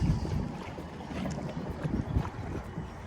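Motor pontoon boat planing on a river, a steady close rush of wind and water with engine drone throughout, no talk.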